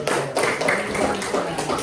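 A classroom of students clapping hands together on cue, a dense patter of claps at steady loudness under a murmur of voices.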